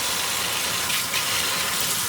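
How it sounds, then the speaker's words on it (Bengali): Hot water runs steadily over leafy greens being rinsed, a continuous close splashing wash with a brief swell of gushing midway, no voices. "তো আমি গরম জল দিয়েই কিন্তু এই শাকগুলো ধুয়ে নিচ্ছি।"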